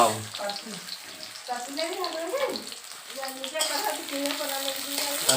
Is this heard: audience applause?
no